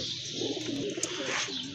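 A pair of fine, rare-collection pigeons coos nearby, a continuous throaty burbling that rises and falls over a faint hiss of background noise, with no one speaking.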